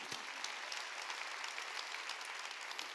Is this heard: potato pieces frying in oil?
no